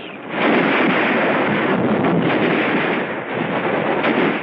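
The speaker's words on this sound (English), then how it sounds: "So are the flamethrowers and the mortars." Mortar and flamethrower fire during the World War II battle of Tarawa, heard as a dense, continuous roaring rumble of battle noise that stays loud throughout.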